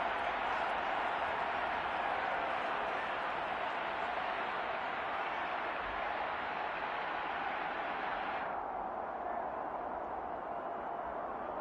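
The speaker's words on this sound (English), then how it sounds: "Plenty of shouts from this crowd as they watch the replay." A stadium crowd in a Dolphins versus Falcons football video game roars and shouts during a replay, a steady, dense wash of noise that dulls slightly near the end.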